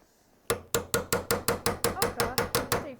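A hammer strikes a rubber bushing on a Subaru, pressed out by hand without a press: about twelve sharp, evenly spaced metallic blows, close and loud, each ringing briefly before the next.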